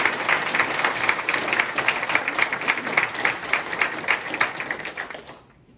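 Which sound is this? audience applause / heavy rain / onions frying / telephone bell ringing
audience applause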